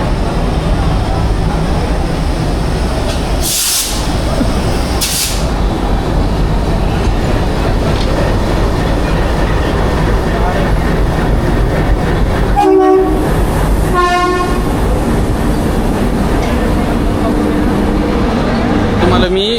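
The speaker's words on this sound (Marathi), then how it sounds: "सो फायनली आपली ट्रेन आलेली आहे मित्रांनो." The Jhelum Express, running from Pune to Jammu, rumbles into a station with steady rail noise, two short high horn blasts early on and a louder tonal horn blast later, while voices talk throughout.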